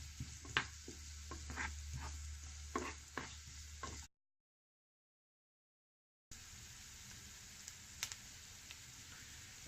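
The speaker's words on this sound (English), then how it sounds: "now that the onions have been cooking down for about 2 minutes" Onions with chopped coriander, parsley and thyme cooking down in a pan, quiet sizzle with repeated stirring scrapes, then a gap of silence before the faint frying resumes.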